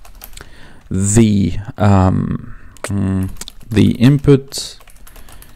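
Python code is typed on a computer keyboard: quick clicking keystrokes, clearest at the start and in brief gaps, mostly under a man's steady speech.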